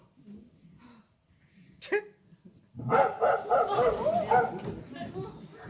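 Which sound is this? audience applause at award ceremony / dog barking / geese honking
dog barking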